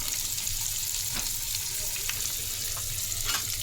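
Finely chopped onion fries slowly over low gas in a pan, a steady soft sizzle with occasional light stirring scrapes, no talk.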